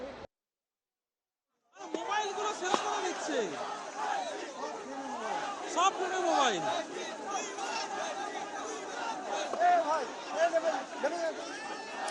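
A crowd of protesters in Kolkata facing police and water cannons: a dense roar of shouting and chatter that kicks in after a short silence and stays loud and sustained, with voices crying out above the din.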